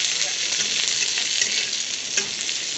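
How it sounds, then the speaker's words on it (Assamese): Onions sizzle steadily in hot oil in a wok (kadai), a dense bright crackling hiss with occasional sharper pops and stirring scrapes, close and without talk. "কেৰাহীত প্ৰথমতে মই তেল দিছোঁ। তেল দি এই পিঁয়াজখিনি ভাজি লৈছোঁ।"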